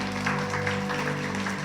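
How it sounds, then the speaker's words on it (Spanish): A church congregation applauding, a dense patter of clapping under a sustained musical drone, steady for the short stretch. "Dale un aplauso al Señor."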